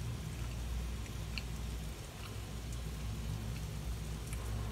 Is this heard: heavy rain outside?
yes